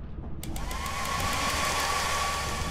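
Hair dryer item in the video game Lethal Company switches on with a sudden loud, steady whooshing blast of air and a thin whine, running continuously.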